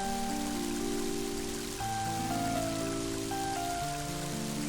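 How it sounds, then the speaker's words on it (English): Rain falling in the video game Mother 3, a steady wash of rainfall heard under a game music melody with sustained notes, no talking. "And now it's starting to rain."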